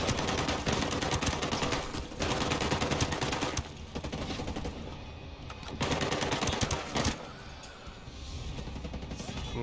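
A light machine gun in the video game Ghost Recon Breakpoint fires in long rapid bursts, loud and close, separated by short pauses, with game noise underneath.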